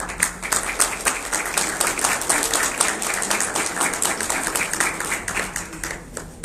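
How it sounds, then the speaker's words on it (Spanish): An audience at a science communication panel claps to welcome the guests, a dense, even applause that holds steady throughout at moderate loudness. "Vamos a recibir con fuertes aplausos a nuestros invitados"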